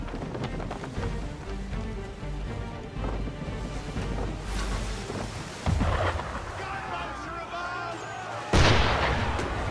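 Ship cannons fire in Assassin's Creed 3, with two heavy booms landing several seconds apart over a constant stormy wash of wind and rain-like noise.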